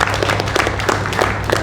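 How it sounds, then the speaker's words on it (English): A short burst of applause from a bootcamp audience in Warsaw, dense clapping with crisp individual claps standing out, moderately loud throughout. "guys, can we give a big round of applause for this gentleman?"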